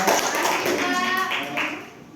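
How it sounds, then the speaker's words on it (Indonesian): Classmates in a classroom give a short round of applause for a fellow student, a brief burst of close, fairly loud clapping that tapers off within a couple of seconds, with a voice speaking over it. "tepuk tangan untuk teman kita"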